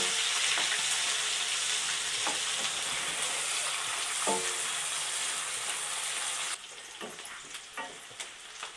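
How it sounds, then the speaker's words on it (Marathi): Onions sautéing in a pan with whole spices for a spicy chicken masala, loud continuous sizzling with occasional stirring scrapes, easing slightly quieter near the end. "आता कांदा टाकून घेते कांदा चांगला लाल होईपर्यंत कांदा परतून घेऊ"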